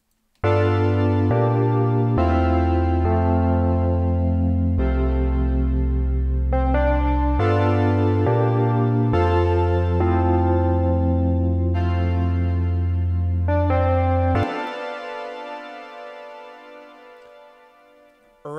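Layered synthesizer chords with heavy distortion step through a repeating bass progression, then drop out as a long reverb tail fades away.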